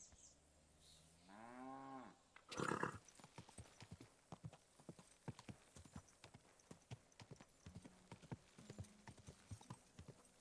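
Horse hooves clip-clopping in a video game, a steady run of close, crisp hoof strikes following a short neigh-like call and a burst of louder noise near the start.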